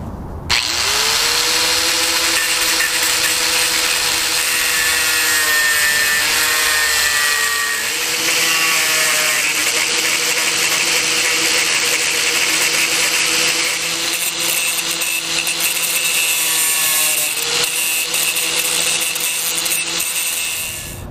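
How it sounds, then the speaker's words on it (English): Handheld grinder cutting a slot for 1/4-inch key stock on a catamaran rudder linkage, a loud, continuous high whine whose pitch sags and recovers as the disc bites into the metal, close up with no talking. "I need to do is grind in a slot to accept my 1/4-inch key stock right here. I'm just going to hand do that with a grinder."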